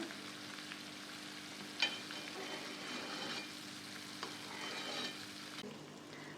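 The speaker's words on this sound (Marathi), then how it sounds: "पाकाला चांगली उकळी आलेली आहे।" Sugar syrup for lemon pickle bubbles and boils in a kadhai with a soft, steady sizzling hiss and a few brief pops, no one talking.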